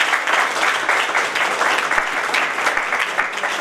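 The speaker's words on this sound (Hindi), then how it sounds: "जोरदार तालियां" Loud, sustained applause from a large audience at a sales event fills the room, a dense continuous clatter of many hands clapping at close range with little else audible.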